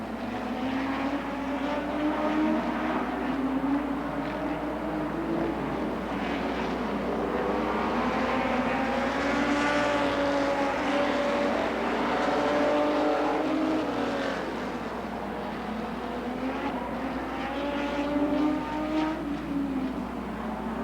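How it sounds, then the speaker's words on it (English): Stock cars race around a track at the CNE in 1990, engines droning continuously and rising and falling as the pack laps, loud and sustained with no talk. "Car number 32, Rob Scott out in front."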